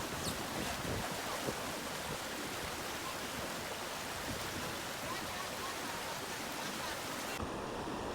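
Rapids on the Upper Chetco River, just upstream of Granite Creek, give off a steady, unbroken rush of whitewater that stays even and fairly soft throughout.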